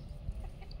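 Desi hens on a free-range poultry farm, heard as soft low clucking and fowl murmurs over a steady outdoor hum, fairly faint with no voices.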